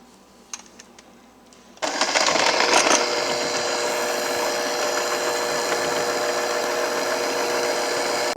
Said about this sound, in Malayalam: നമുക്ക് ഇത് കുറച്ച് പഞ്ചസാര ഇട്ടിട്ട് നമുക്ക് ബീറ്റ് ചെയ്തെടുക്കാം